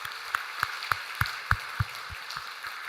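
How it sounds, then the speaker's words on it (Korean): Church congregation clapping in celebration, a string of evenly spaced, sharp claps that ring out in a steady rhythm before thinning and fading. "우리 박수로 축하하도록 하겠습니다."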